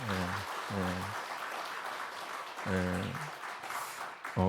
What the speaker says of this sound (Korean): 오늘 박수로 한번 해볼까요?